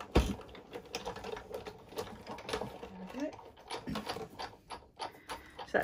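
A Sizzix die-cutting machine feeds watercolour card through its rollers, giving a steady grinding, clicking mechanical rattle over several seconds, fairly close, with a voice talking faintly behind it.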